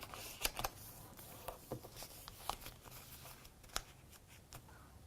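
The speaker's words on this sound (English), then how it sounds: "What if I folded it into fourths like this?" A sheet of paper being folded into fourths gives soft, crisp crinkles and sharp creasing snaps, several quick rustling bursts over a quiet background.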